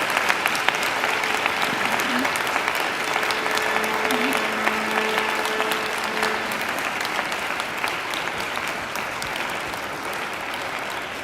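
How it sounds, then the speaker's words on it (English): Graduates at a university graduation ceremony give families and friends a long, steady round of applause, a dense wash of many hands clapping, loud and continuous, with faint voices murmuring underneath. "And now I invite you to give them a mighty round of applause."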